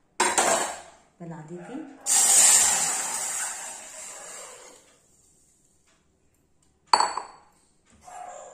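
A metal spoon scrapes and clinks against a pan of ginger juice in a home kitchen, in a few separate bursts of stirring and rattling with gaps of quiet, while someone speaks briefly.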